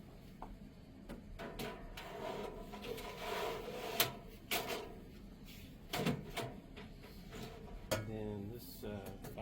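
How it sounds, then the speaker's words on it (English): A honeycomb bed slides into a Monport MEGA laser cutter with close, faint metallic scrapes, bumps and rattles at irregular intervals, ending in a quick grating slide. "Then next we can slide in our honeycomb."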